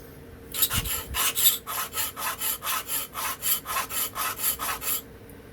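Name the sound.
sharpening a Remington Barlow knife on an abrasive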